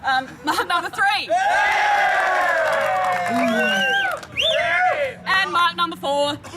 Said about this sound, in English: obviously the loudest cheer gets the beer. So, cheering voices ready?